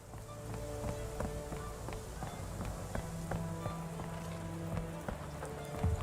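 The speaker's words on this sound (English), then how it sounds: "You're gonna have a lot of work sweeping up all the rain" Rain patters steadily on hard surfaces in a Victorian street in Sherlock Holmes The Awakened, a dense wash of drops with scattered sharper taps and a faint low hum beneath, no voices.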